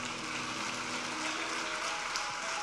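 Faint, distant applause from a church congregation, a steady wash of clapping at low volume.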